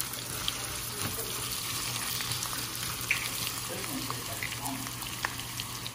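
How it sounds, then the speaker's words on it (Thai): Shallots frying in hot oil in a large wok, a steady, dense sizzle holding evenly throughout with occasional small pops and crackles, fairly quiet and unbroken by speech. "น้ำมันร้อนใส่หอมเจียวลงไปค่ะ ใส่หอมแดงค่ะ"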